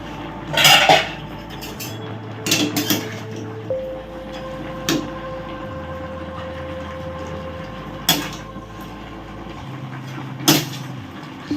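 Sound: greens being stirred together with vegetables in a pot

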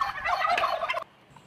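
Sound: turkeys gobbling in a poultry farm

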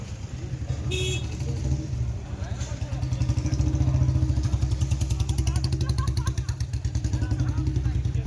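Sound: motorcycles starting and riding off

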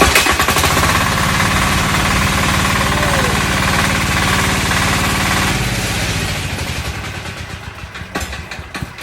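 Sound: large 11 hp diesel engine hand-started by a mechanic

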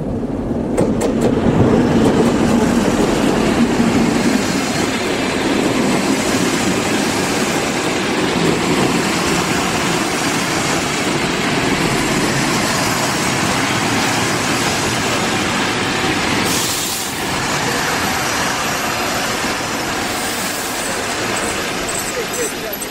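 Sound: passing train

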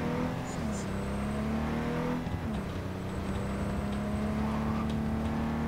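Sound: car engine revving in Cyberpunk 2077 video game

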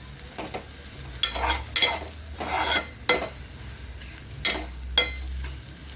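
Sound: garam masala frying in hot oil

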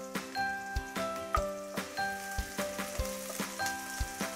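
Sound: garlic and ginger lightly frying in a pan

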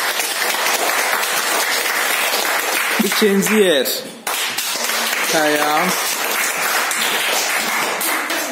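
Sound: applause for the competition winners

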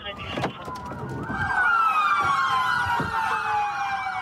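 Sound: police car sirens

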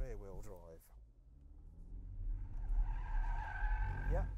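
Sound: BMW 1 Series car skidding while attempting donuts

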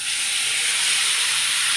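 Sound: loach fish sizzling in hot oil

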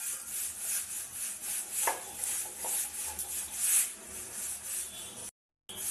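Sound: grinding mustard seeds into a fine paste

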